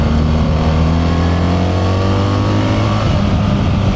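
A 1300 adventure motorcycle engine revs under throttle, a loud, close, steady drone whose harmonics climb gradually, heard alone without talk.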